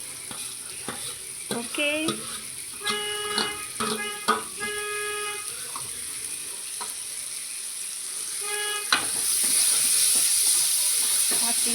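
Finely chopped banana flower tossed into tomatoes frying in separating oil, stirred with a steady sizzle, scraping clatter and a few utensil clinks; the hiss swells louder near the end, and a voice briefly speaks.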